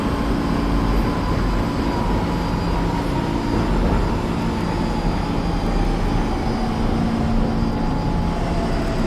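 A New York subway train runs steadily in the OpenBVE train simulator, a loud continuous rumble of wheels and motors with a faint whine sliding slowly downward throughout.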